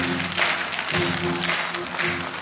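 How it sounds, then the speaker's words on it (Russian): An improv live show audience claps for an incoming guest, a dense, steady burst of applause filling the hall for a couple of seconds. "пожалуйста, встретим аплодисментами"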